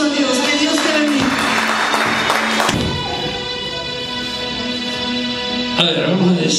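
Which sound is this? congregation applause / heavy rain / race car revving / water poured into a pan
congregation applause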